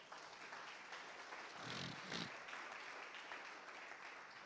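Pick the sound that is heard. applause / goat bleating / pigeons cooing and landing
applause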